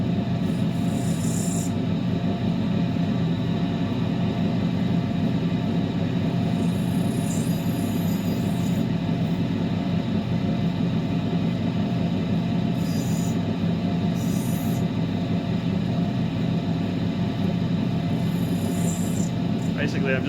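Lapidary 600 grit grinding wheel smoothing the top of a boulder opal, a steady close grinding rasp with a continuous motor hum running unbroken throughout, with no one talking over it.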